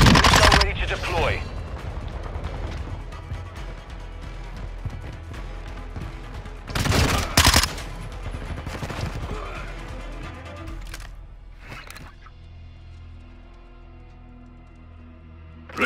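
Gunfire in a Call of Duty Modern Warfare 2 multiplayer match at Santa Barbara Crossing, with bursts of automatic shots and sharp loud blasts early and around the middle, then thinning to quieter distant pops while brief radio voices speak.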